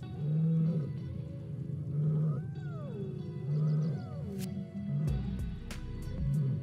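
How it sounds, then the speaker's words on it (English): In a wild savannah video game, a hyena gives repeated roars and whooping calls, rising and falling in several drawn-out bursts over a low rumbling backdrop with a few sharp clicks. "I find the hyena's roars really funny for some reason"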